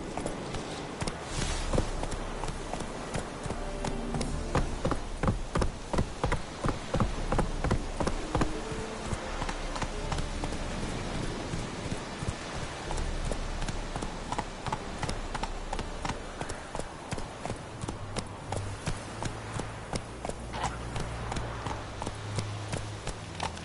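The horse Roach galloping in a video game, a steady rapid clip-clop of hooves running continuously for a long stretch, close and prominent, with buzzing insects and outdoor ambience in the background.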